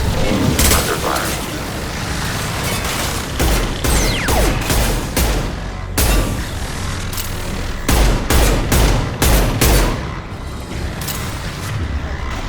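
Gunfire from the Mass Effect 2 video game, with repeated sharp shots and bursts crackling over a dense, loud battle backdrop throughout, mixed with mechanical clanks and a voice speaking.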